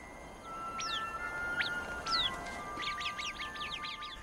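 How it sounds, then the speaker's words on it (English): Arabian babblers call in a hot, dry desert, sending out repeated sharp, rising chirps and a quick burst of overlapping notes near the end over a faint background hiss. "This little creature, known as the Arabian bird, manages to survive in this difficult environment."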